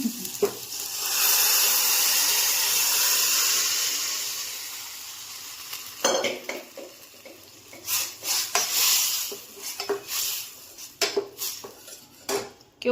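Mung beans go into a cooking pot over a soft sizzle, followed by a spoon scraping, clinking and knocking against the metal pot in quick, uneven bursts while they are stirred nearby.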